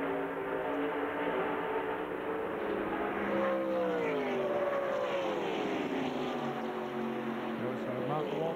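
A race car at the 1996 Winston Select 500 NASCAR race drones past on the track, its loud engine pitch sweeping smoothly over several seconds under a steady roar of other cars.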